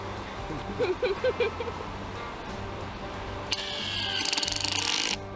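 Sand screw tent pegs being driven into beach sand at a Moreton Island campsite, a steady mechanical whirring buzz that builds louder toward the end over outdoor background noise.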